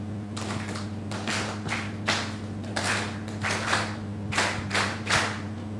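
Applause at a political party convention ceremony in Nampula, Mozambique, with a crowd clapping in uneven waves of bursts that swell and fade repeatedly.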